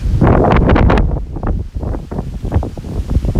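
Strong storm wind buffets the microphone on a Tokyo street, a loud continuous roar that surges hardest at first, then eases into gusty, fluttering rumbles.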